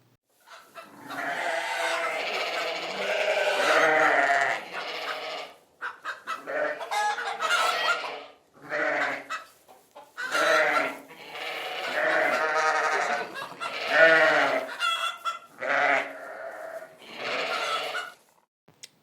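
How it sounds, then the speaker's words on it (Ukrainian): Farm animals and birds call one after another: chickens cluck and crow, sheep and goats bleat, loud and close with short gaps between the calls. "Так, це голоси тварин і птахів."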